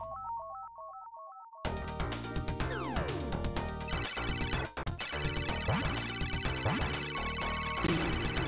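Phone ringing in the Yakuza 0 video game, a short electronic ringtone melody playing alone, then cut off by a dense, loud burst of busy game music and effects.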